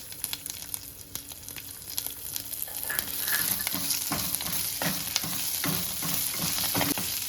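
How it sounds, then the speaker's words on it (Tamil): A tempering sizzles in a pan for Madurai-style thanni chutney. Steady, close crackling and spitting of hot oil continue throughout, with stirring scrapes, and the sizzle swells louder partway through. "இந்த தாளிப்பு போடுறது"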